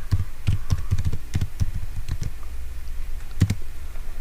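Someone types on a computer keyboard while entering a database name for a PostGIS SQL query, with quick, uneven clusters of close key clicks, a few louder taps, and a brief pause before the final strokes.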